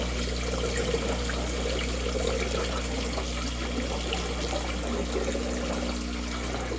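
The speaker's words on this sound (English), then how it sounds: "It looks like we're a little bit low on water, so I'll have to add some water" Water runs into an aquaponics fish tank in a snowy setting, a steady trickling, splashing flow over a constant low mechanical hum, with no talking.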